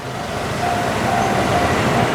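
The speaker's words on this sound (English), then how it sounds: "Ah, what a nice, slow, leisurely train." A slow train rolls past on a street in Fukuoka, Japan, giving a loud, steady rumble and rushing noise that builds slightly and stays constant throughout, with no talking.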